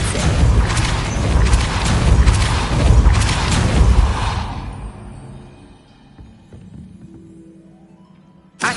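Depulso spell cast in Hogwarts Legacy: a loud, forceful booming crash that roars for several seconds, then fades away into quiet, ending with a short sharp knock.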